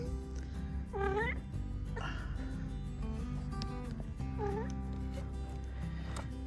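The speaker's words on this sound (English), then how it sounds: "As Kitty decided she wanted to be a part of the video too." A cat meows several times inside a van at Quartzsite, Arizona, with distinct, moderately loud calls spaced over a steady electrical hum.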